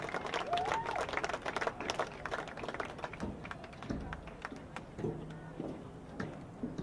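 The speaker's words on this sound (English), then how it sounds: "Please give a warm round of applause for Chris Hickok" Audience at a boys lacrosse senior ceremony gives a round of applause, a dense patter of claps with scattered thumps and faint voices, moderately loud and continuous.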